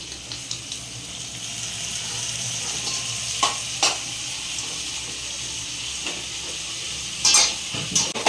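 Tomatoes sizzle and fry in a pan, with a steady hiss throughout and several sharp scraping clinks from stirring toward the middle and end.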